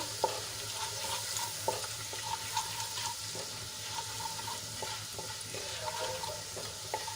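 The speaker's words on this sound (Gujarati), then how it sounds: "આદુ લસણ અને મરચાંની પેસ્ટ થોડીક સંતળાઈ જાય એટલે એમાં આપણે એક ચમચી ચણાનો લોટ એડ કરીશું" Gram flour sautéing with ginger, garlic and chili paste in a pan, a low continuous sizzle with scattered light scraping and tapping clicks as it is stirred.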